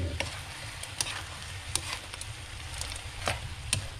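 Wild dove meat simmering in its own juices in a pot, a soft steady sizzle with occasional sharp clicks of stirring and scraping, close and fairly quiet.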